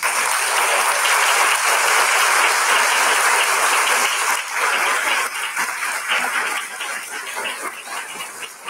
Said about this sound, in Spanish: a gente aplaudisse Marcos nesse momento